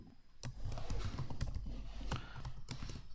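Quick bursts of keystrokes tap on a computer keyboard as a name is typed into a Windows 11 setup screen, close and quiet, with short irregular clusters and pauses.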